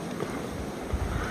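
Wind blowing outdoors in a snow blizzard, a steady broadband roar with gusty rumble in the lows, continuous and fairly loud throughout with no voices.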